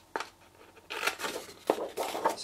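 Scissors snip small squares out of a scored paper sheet on an envelope punch board. A few short, crisp cuts sound close by, with no talking.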